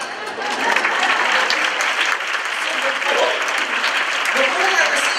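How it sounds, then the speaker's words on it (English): Keynote audience applauding with steady, dense clapping that continues for several seconds. "Clap for me."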